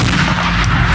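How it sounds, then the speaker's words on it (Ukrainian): A mortar fired by a 47th brigade crew booms with a loud, dense blast that fills the whole short clip, close and continuous with no speech. "Постріл!"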